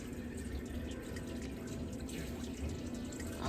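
Water is poured lightly into a pan holding frozen salmon, a soft continuous trickle and splash close by with faint dripping, steady for a few seconds without speech.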